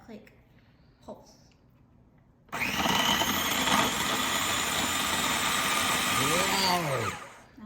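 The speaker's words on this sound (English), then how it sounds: "So now we're going to process our first 4 ingredients in the food processor until the butter is about the size of a pea." A food processor pulsing butter with dry ingredients for a baking recipe: a loud, steady motor whir starts abruptly, runs for several seconds and winds down with a falling pitch, after a couple of faint knocks.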